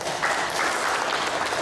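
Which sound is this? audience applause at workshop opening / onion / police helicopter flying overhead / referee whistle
audience applause at workshop opening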